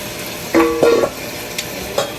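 Pork chop strips stir-frying in a pan with black pepper, a few short sizzles and scraping stirs in quick bursts, close and moderately loud with no talking.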